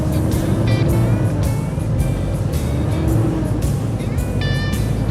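A semi truck drives over a potholed road, heard from inside the cab as a steady, loud engine drone and road rumble with faint rattles and bumps throughout.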